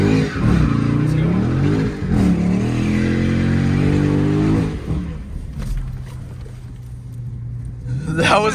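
A Dodge Charger SRT Widebody Scat Pack launches at full throttle, its engine roaring loud and close through rising revs before dropping back to a deep, rumbling idle.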